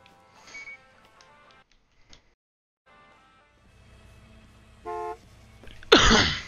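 A car horn honks at a pump in the Gas Station Simulator video game, a short loud blast near the end after quieter game sounds and tones.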